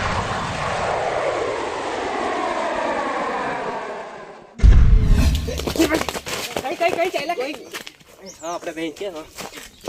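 A homemade desi jugaad airplane engine runs with a steady droning whine for about four seconds, then a sudden loud burst gives way to rougher, uneven engine noise mixed with voices.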